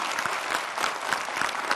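Studio audience applause on a Hindi political debate show, a steady dense wash of clapping with no voices, sustained and fairly close throughout.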